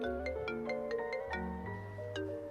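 A phone ringtone plays a bright, melodic electronic tune of stepped tones, loud and close, with no voices over it.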